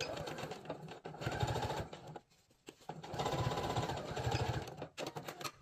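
A sewing machine stitching layered fabric for a double pouch runs in fast, steady bursts of mechanical whirring and rattling, pausing briefly midway before stitching again, close and continuous.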